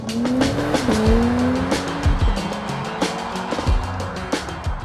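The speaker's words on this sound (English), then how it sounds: "It does not sound like a straight 6. It has more of a V8 rumble." A BMW X3 M50's B58 straight-six engine revs hard through several ZF gearbox shifts, the pitch climbing and dropping with each shift, loud and close, with a V8-like rumble.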